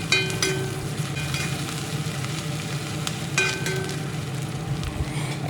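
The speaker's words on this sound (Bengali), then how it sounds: "গ্রেট করা পেঁয়াজ, আধা ভাজা পেঁয়াজের সঙ্গে ভালোভাবে নেড়ে চেড়ে মিনিট খানেক সময় ধরে কষিয়ে নিচ্ছি" Grated onion with ginger-garlic sautés in a pan for a soybean dish, a steady close sizzle with occasional stirring scrapes and clinks, no talking.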